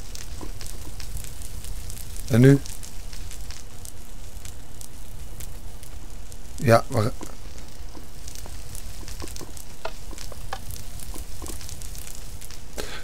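A crackling, hissing fire burns steadily in Minecraft, a constant close sizzle with two brief louder pops, while a voice speaks a few short words over it.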